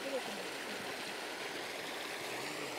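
Water pours down an old stone spillway below a lake, a steady, even broadband rush that stays soft and continuous throughout, with no other distinct sounds over it.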